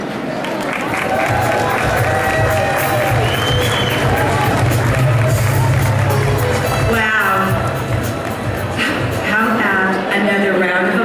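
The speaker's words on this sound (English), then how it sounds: "Another round of applause to thank Mr. Jones, Director Henson, and Senator Rubio." Sustained applause from a large convention audience at an annual chamber of commerce gathering in Miami, dense clapping and crowd noise filling the hall steadily for the whole stretch.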